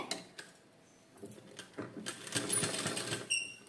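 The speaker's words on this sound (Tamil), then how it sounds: "சின்னதாக தையல் போடணும் பாயிண்ட் ஒன்னை விட குட்டியாகவே தையல் போடணும்" A sewing machine runs in short bursts, stitching piping onto cloth, with a rattling mechanical clatter that starts quiet and grows steadier and louder near the end, with no voices.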